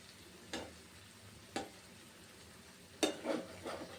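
An egg cooks in oil in a pan with a soft, low sizzle running throughout, broken by a few sharp stirring or scraping sounds and a short cluster of utensil clatter near the end.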